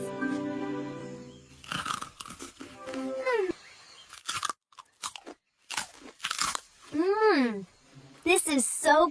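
Crunchy cookies being bitten and chewed close up, crisp crunches in short bursts between bits of cartoonish voices and exclamations.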